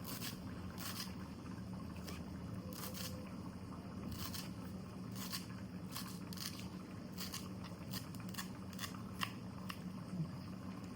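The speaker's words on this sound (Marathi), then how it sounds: "मस्त बारीक अशी कोथिंबीर कापते मी एकदम बारीक" Fresh coriander being finely chopped with a knife for a fish curry garnish, a steady run of close, crisp cutting strokes repeating irregularly over quiet kitchen background.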